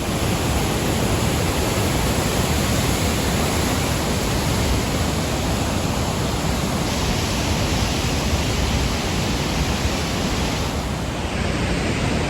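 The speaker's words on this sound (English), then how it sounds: "Came down below the bridge to check out this thing, this waterfall, and it gets really awesome down here." Waterfall below a bridge in Yosemite National Park, a loud, steady, dense roar of falling water that fills the whole stretch without a break.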